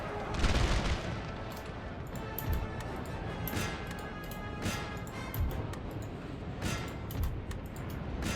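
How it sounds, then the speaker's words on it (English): Artillery firing canister shot in a Napoleon: Total War battle, a distant, muffled rumble of cannon booms and crackling volleys rolling steadily with no clear pauses, beneath faint battle noise. "Let's get this artillery, switch to canister"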